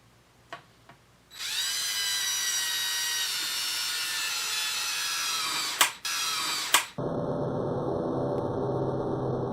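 Power drill boring into a mahogany guitar body: a loud, steady high-pitched whine that cuts briefly twice and then drops to a lower, rougher grinding tone, with a few short knocks before the drill starts and no talking.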